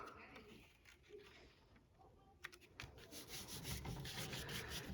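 Paper rubbed by hand over an inked foam printing stamp, a soft steady scratchy swishing that turns louder and more rhythmic in the second half.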